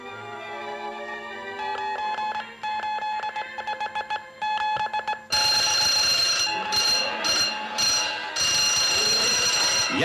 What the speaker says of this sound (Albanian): Ja si vjen momenti, alarm.